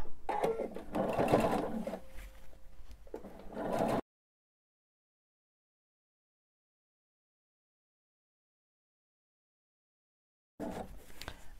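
Sewing machine stitching quilt binding, running steadily for about four seconds with a brief slowdown, then silence, then stitching resumes near the end; close and clear with no talking.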